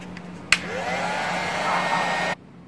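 A heat gun shrinks heat shrink tubing over a fitting. After a sharp click it blows with a steady, moderately loud whoosh for about two seconds, then cuts off abruptly.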